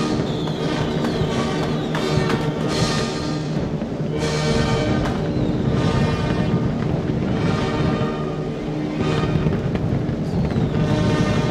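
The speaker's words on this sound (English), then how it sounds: "Every fireworks display ends with a finale." Dense, continuous booming and crackling bursts fill the whole stretch, a loud sustained barrage of a fireworks display finale with no pauses between blasts.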